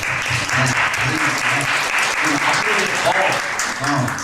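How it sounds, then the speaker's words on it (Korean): Church congregation clapping in welcome, steady dense applause filling the room with a few voices mixed in underneath, loud and sustained throughout. "우리 환영의 박수 한번 치겠습니다."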